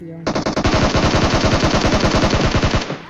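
Automatic rifle fire in the PUBG battle royale game erupts as one long, rapid, unbroken burst of loud close-range shots lasting about three seconds, then cuts off.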